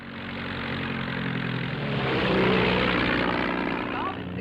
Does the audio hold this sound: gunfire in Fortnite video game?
no